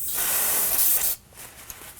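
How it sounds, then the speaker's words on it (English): Brake parts cleaner hisses in a steady, close spray from an aerosol can onto a brake bleeder valve for about a second before cutting off. "Using some brake parts cleaner, we're gonna go ahead and clean the bleeder."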